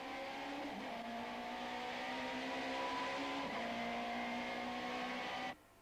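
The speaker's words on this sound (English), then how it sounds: "We are in car with Terry Moss, who is already locking horns with Hannes Hrobler in the BP Nissan Sentra" In-car sound from a BP Nissan Sentra touring race car competing at Zwartkops: a loud, steady engine drone with shifting pitch as it changes gears, cutting off abruptly near the end.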